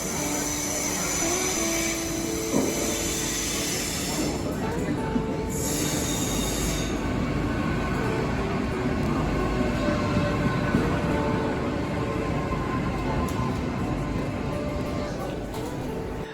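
A passenger train running between Bath and Winchester, with a change at Southampton: steady close rumble of the carriage and rails throughout, with faint high wheel squeal and chatter over it, and people's voices murmuring in the background.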